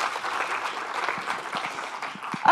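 Audience applause at a talk on sustainability investment, a moderate, steady patter of many hands clapping that swells slightly at the very end.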